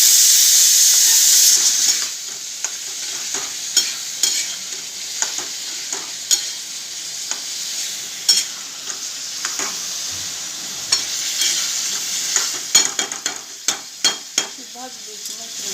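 Tomato chutney with turmeric and salt being stirred in a hot pan, soft steady sizzle under repeated scraping and tapping strokes of a spoon, close and fairly quiet after a louder hiss at the start.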